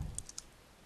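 Three quick, light keystrokes on a computer keyboard, close and clear in a quiet room, then silence.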